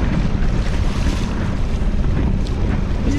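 Choppy sea water slaps around a small boat crossing a windy channel near a sandy shore, with steady broadband wind rumble buffeting the microphone throughout and no voices.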